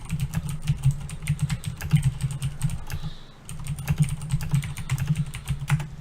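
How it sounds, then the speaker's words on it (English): Loud, fast typing on a mechanical keyboard, close and continuous, with dense clacking keystrokes and a brief pause midway before the rapid clatter resumes. "excuse my extremely loud fucking typing. I love this mechanical keyboard."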